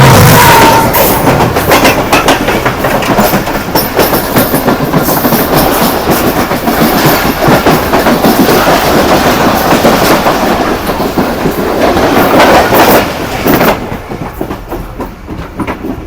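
The 41 Up Karakoram Express from Karachi to Lahore passes just before Bolari station in Pakistan, a loud, close, continuous roar of rolling wagons with rhythmic clickety-clack that eases off toward the end.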